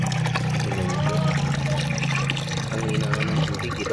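Water pours and trickles steadily as it runs through a filter, a close, continuous wash with a low hum beneath it.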